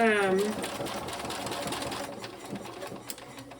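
A sewing machine runs a quick back stitch, a close, steady mechanical whir lasting a few seconds with a brief rising tone at the start.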